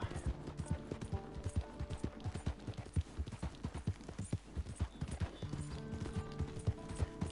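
Horse hooves clip-clopping steadily while riding in Red Dead Redemption, a brisk rhythmic gait heard up close and fairly quiet, with no talking.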